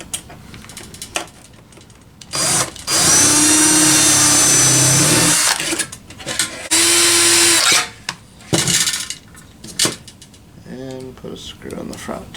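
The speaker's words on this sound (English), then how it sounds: "drill a hole in the front for the front screw." A power drill bores a hole in a homemade RC airplane snow ski in two loud, sustained whirring bursts, with quieter handling clicks and rattles between and after them.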